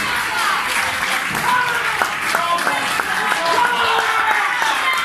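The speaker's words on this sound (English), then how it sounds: "Some round of applause" A crowd applauds as four people come to the front for a speech game, dense clapping mixing with cheers and voices talking over it throughout.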